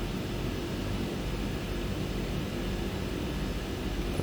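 Aircraft engine rumbling while taxiing to parking in Microsoft Flight Simulator 2020, a steady, dense low roar with broad hiss holding level throughout, no voices.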